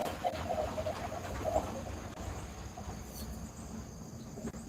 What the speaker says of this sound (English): There come the birds.